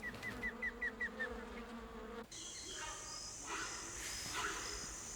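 A rainforest wasp that hunts horseflies buzzes in pulsing bursts close by, then a steadier insect drone and ambient forest hum take over.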